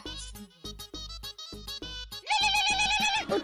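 A mobile phone rings with a repeating melodic ringtone of quick bright tones, close and clear, with no voices.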